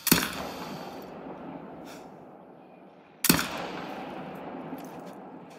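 Two loud rifle shots in theHunter: Call of the Wild, fired at a crocodile about three seconds apart, each a sharp crack followed by a long rolling echo that fades slowly.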